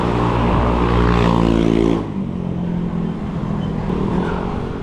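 A Camaro passes on a city street, its engine loud and close for about two seconds before fading into steady traffic rumble.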